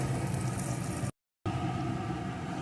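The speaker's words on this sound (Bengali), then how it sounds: "এখন এই দুটোকে একটু এপিট ওপিট করে ভেজে নেব" Pieces of eggplant fry in oil in a pan as they are flipped, a dense steady bubbling sizzle that cuts out briefly for a moment of silence and then resumes.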